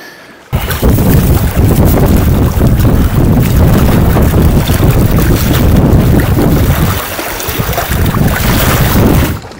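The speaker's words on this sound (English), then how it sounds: "As you can tell, it's really windy" Strong wind buffets a microphone at the edge of a pond, a loud, steady roar with rumbling gusts that runs almost the whole time after a sudden start, with no voices.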